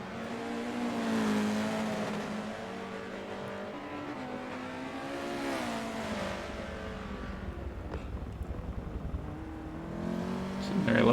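Race car engine at the Nürburgring 24 Hours in a racing game, a steady high-pitched drone rising and falling with revs and gear changes, mixed with faint tire noise and commentary voices over it.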